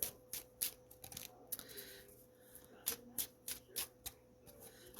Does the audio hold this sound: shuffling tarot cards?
yes